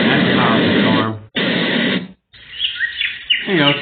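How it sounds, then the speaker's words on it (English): Forest birdsong track from a white noise machine: after a couple of loud hissing bursts of the previous sound, bright chirps and warbling bird calls emerge, close and moderately loud. "Some birds in the forest."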